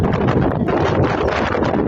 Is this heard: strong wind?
yes